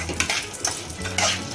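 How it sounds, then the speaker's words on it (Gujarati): Chana dal and whole dried red chillies frying in a pan, with a spoon scraping and clinking against the metal over a steady sizzle, close and fairly loud. "અને ફ્રાય કરવાનું. 2 મિનિટ જેટલું ફ્રાય કરવાનું."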